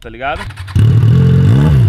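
A motorcycle in neutral revs hard up to its rev limiter, holding a loud, close, buzzing high-rpm tone that bounces against the cutoff, just after a brief spoken phrase.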